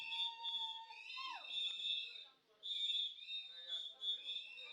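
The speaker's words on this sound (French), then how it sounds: "Mais le sifflet là, c'est quoi?" A loud, shrill whistle blasts repeatedly at a festive party celebrating a couple about to marry, with sustained piercing tones and a falling slide, while people talk underneath.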